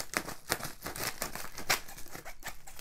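Scissors cut into a package of precious-metal coins from a bullion dealer, giving a run of sharp snips and papery crinkles in quick irregular bursts, close up with no talk.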